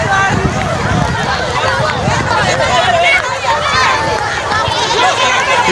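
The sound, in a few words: large crowd welcoming a new train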